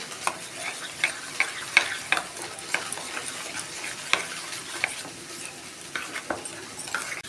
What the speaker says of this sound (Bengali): আমি মশলাটাকে ভালো করে গুলে রেখে দিচ্ছি